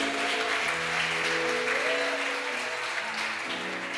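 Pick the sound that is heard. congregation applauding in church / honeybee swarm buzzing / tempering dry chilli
congregation applauding in church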